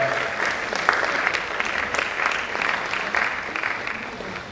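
A dense, even round of applause fills the hall at a College of Medicine scientific conference plenary session. It holds steady and fairly loud from start to finish, with no one speaking over it.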